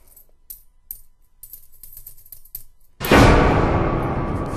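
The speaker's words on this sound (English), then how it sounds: "It played the sound where, like, you just got caught" In the Slender game's Sanatorium map, a few faint clicks give way to the sudden loud 'caught' sound effect, a harsh burst of noise that hits abruptly and then holds as a sustained, slowly fading roar.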